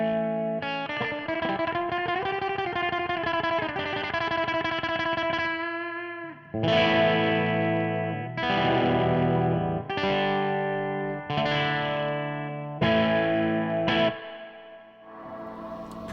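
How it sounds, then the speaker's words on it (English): Electric guitar chords ring out through the heavy, washy reverb of a Fender Super-Sonic 100 amplifier, first a long sustained chord, then a series of struck chords, each trailing off in a lush, spacious tail. "Pretty gushing, expansive reverb."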